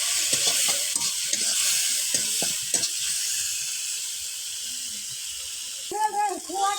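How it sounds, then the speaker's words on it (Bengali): Spice masala of chili powder, turmeric and salt frying in a pan, a bright continuous hiss and sizzle with stirring scrapes, while a person talks over it in the lower range. "হালকা একটু নেড়ে চেড়ে দেবো।"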